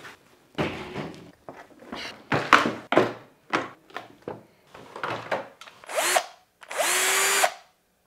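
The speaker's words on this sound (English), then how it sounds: "So let's drill some holes." Several short bursts of a power drill whirring in quick succession, stopping and starting, close by with a few light knocks between them.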